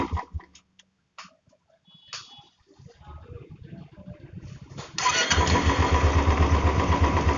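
Royal Enfield Bullet motorcycle, its clutch noise from a loose bolt fixed, cranks and catches at about five seconds, then settles into a loud, steady thumping idle after a quiet stretch of small clicks and handling sounds.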